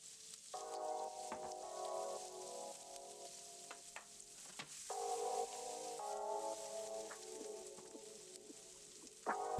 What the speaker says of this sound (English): add my shallots in to saute those for a minute